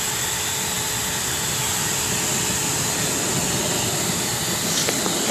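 A blow dryer forces air through the coat of a junior satin angora rabbit during grooming, making a loud, steady rushing whoosh that holds without break from start to finish.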